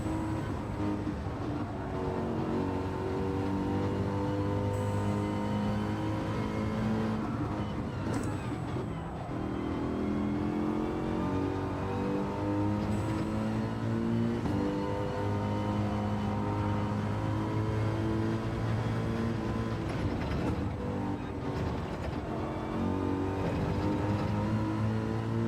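Nissan GT-R race car engine in Gran Turismo 7, a steady loud drone with layered harmonic tones that rise and fall through gear changes as the car holds pace in a daily race, continuous for the whole stretch.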